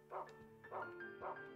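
A dog barks three times in an even rhythm, each bark short and clear, about half a second apart, with steady background noise underneath.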